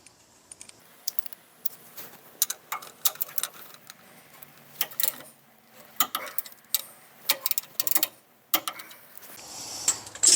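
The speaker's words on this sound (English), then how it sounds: "we'll go ahead and torque these caliper bolts" A wrench ratchets and clicks in short irregular bursts while torquing caliper bolts on a Dana 60 rear axle disc brake conversion. The metallic ticks are close and moderately loud, with no talk.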